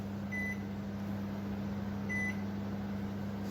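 A Panasonic NN-CD86JD microwave oven gives two short, clear electronic beeps, roughly a second and a half apart, as its knob is turned to step through auto-cook recipes, over a low steady appliance hum.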